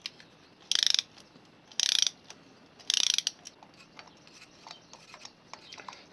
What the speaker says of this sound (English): Spark plug remover socket with extension, put it straight in, lock in, take out the spark plug.